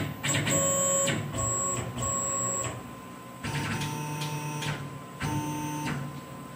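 A Tormach 1100 CNC mill whirs and whines steadily as its axis is jogged, with tonal motor hum in three bursts separated by brief quieter gaps, close and fairly loud with no talking.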